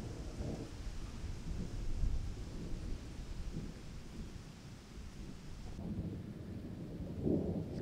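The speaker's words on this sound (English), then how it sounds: "with thunderstorm rolling in." Thunder from a thunderstorm rolling in over Shenandoah National Park during a hike, a low, distant rumble that swells and fades across the whole stretch, with light rain and rustling underneath and no talking.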